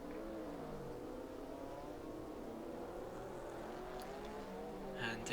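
Classic sports race cars in the video game GT Legends at Donington accelerate, their engine notes climbing steadily in a faint, continuous drone with a few sharp clicks near the end.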